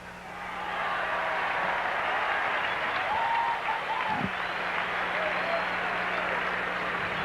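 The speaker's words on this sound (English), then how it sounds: "The fans applaud a nice catch by somebody in the loge seats." Baseball fans at a Mets–Astros game applaud a catch in the loge seats, a steady crowd roar of clapping and cheering filling the stadium, with a broadcast voice faintly underneath.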